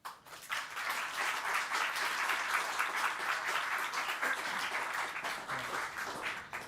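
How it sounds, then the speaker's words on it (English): A crowd applauds steadily for several seconds, dense clapping rising quickly and holding, then tapering at the end. "let's give a big round of applause"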